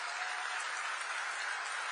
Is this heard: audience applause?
yes